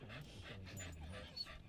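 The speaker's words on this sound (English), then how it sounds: "Y'all probably think I have the worst behaved dogs in this group." Dogs in a car pant rapidly and whimper, a steady close breathy rhythm with a brief whine, fairly quiet.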